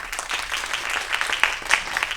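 An audience at a healthcare innovation lecture claps to welcome a professor, a short, moderately loud round of applause with a few sharper claps standing out.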